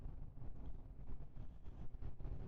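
Rushing wind buffeting a microphone on a motorcycle ridden out of New York City in a tunnel-like stretch of highway, a loud continuous low roar with gusting swells and no talk.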